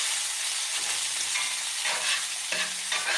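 Liver and onions fry in butter in a cast iron skillet, giving off a constant close sizzle with occasional stirring scrapes and bursts of louder crackling.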